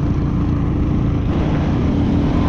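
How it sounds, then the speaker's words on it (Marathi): A group of big motorbikes rides fast along a mountain road in Ladakh, producing a loud, steady engine rumble that stays close and unbroken throughout. "बायकर ग्रुप आहेत बघा कसला पटपट पटपट पटपट पटपट चाललंय."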